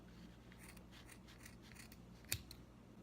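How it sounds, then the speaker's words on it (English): Scissors snip through wrapped layers of yarn for a handmade pom-pom, with faint soft cutting and rubbing and a single crisp close snip near the end in a quiet room. "I'm going to take my scissors and I'm going to cut in between all of these layers."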